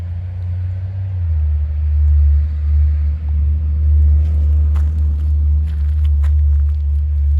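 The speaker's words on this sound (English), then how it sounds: "There's the garbage truck." Garbage truck driving by on a sunny outdoor stroll, a loud low engine rumble that swells and stays close, with faint clicks and rustles on top.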